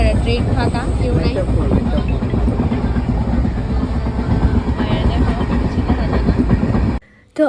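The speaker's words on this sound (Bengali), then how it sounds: "ট্রেনের খুব ছাড়ছে আর মোটামুটি ভালো স্পিড হয়ে গেছে।" A train pulls away and picks up speed, its loud rumble and rhythmic wheel clatter filling the clip before a brief sudden drop near the end; a voice speaks over it.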